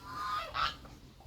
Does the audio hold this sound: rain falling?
no